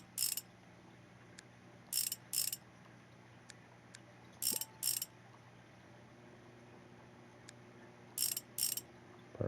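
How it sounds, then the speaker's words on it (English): Bolts being ratcheted onto a motorcycle sprocket wheel in the video game Motorcycle Mechanic Simulator 2021: short mechanical ratchet bursts arrive in quick pairs at spaced intervals, crisp and clear over a quiet hum. "Let's put the sprocket wheel on. Put in the 6 bolts for this too."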